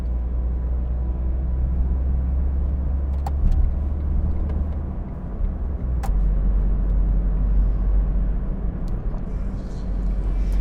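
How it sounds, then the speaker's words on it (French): A Smart Fortwo MHD Coupé 1.0 61 hp merging onto and cruising along a motorway: steady low engine and road rumble with constant tyre and wind noise, heard from inside the cabin, with a few brief clicks. "on va maintenant s'insérer sur l'autoroute"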